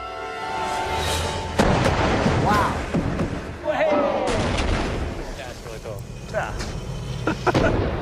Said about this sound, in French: C'est bien une éruption, mais pas celle qu'ils espéraient.